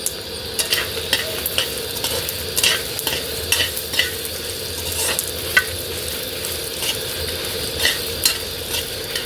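Dried red chillies and other gongura pickle ingredients fry in hot oil with a steady crackling sizzle while a spatula scrapes and stirs in repeated, close strokes, with no talking.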